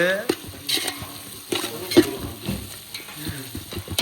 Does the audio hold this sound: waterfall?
no